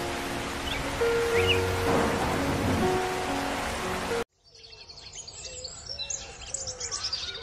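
Rain falls in a Hindi cartoon about a crow's roadside shop, a dense steady hiss for about four seconds before an abrupt cut to lighter, busier birdlike chirping.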